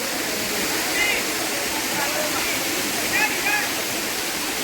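Talakona waterfall drops about 200 feet with a constant, full rushing roar, and a few brief bird chirps rise above it.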